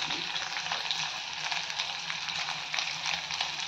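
Capsicum, onion, crushed ginger and garlic sautéing in a pan for paneer chilli, a steady, close hiss of frying oil with faint stirring, alone and continuous.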